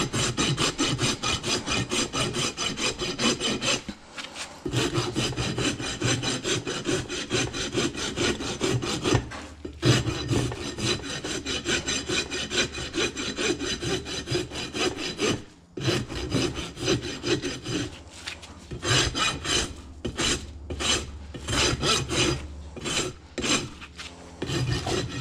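A rasp files the flared hoof wall of a pony during a barefoot maintenance trim, close and loud, in steady back-and-forth rasping strokes with a few brief pauses and quicker choppy strokes toward the end.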